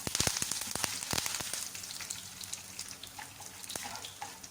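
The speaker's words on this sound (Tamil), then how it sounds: "அந்த கடலைப்பருப்பு, அதையும் போட்டு நல்லா வந்து வறுக்கணும்" Chana dal and curry leaves fry in hot oil for tamarind rice, giving a soft steady sizzle broken by sharp crackling pops, heaviest at the start and then thinning to scattered spits.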